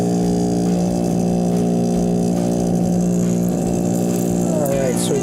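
A loud Kenmore refrigerator compressor runs with a constant heavy mechanical hum and buzzing drone, close and unbroken throughout, with a brief higher whine near the end.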